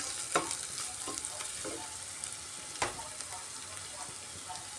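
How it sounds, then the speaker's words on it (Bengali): Chopped onion and ginger sautéing in a pan for a spicy cabbage dish, a soft steady sizzle with occasional scrapes and clinks of a stirring spoon, fairly quiet and with no voices. "পেঁয়াজ আর আদাটাকে আমি এখন ভালো করে কষিয়ে নিচ্ছি"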